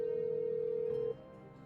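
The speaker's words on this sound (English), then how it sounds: "Maybe I should call Ned or the Hardy Boys." Steady telephone tone in a Nancy Drew video game, a single continuous pitch that holds for about a second and then cuts off abruptly, leaving quiet background.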